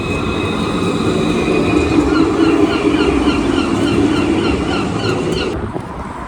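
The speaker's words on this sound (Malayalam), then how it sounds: "ഇതേ അടുത്ത ട്രാം വരുന്നുണ്ട്." A tram passes close by on a Dublin street, sending out a loud, sustained rolling rumble and a tonal whine from the rails that eases off in the final second, with no talking.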